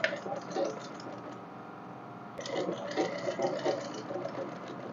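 A sewing machine runs continuously at moderate volume, stitching crinoline net onto a ball dress hem with fine, rapid needle strokes and a brief pause in the middle.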